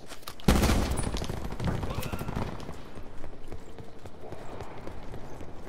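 Gunfire in Call of Duty's Alcatraz Blackout mode: a loud close shot, then a rapid rattling burst and scattered shots over game noise, with players talking now and then.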